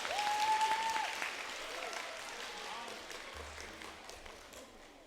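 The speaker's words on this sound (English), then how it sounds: "Can you give them a big round of applause and make them not scared to death?" A middle school audience at a band recruiting event applauds guest percussionists, a moderate wash of clapping that gradually softens, with a faint voice and a brief whistle-like tone at the start.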